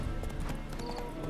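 Horse hooves clip-clop in The Witcher video game, a quick run of hoofbeats over a dense, rumbling game soundscape in a brief burst.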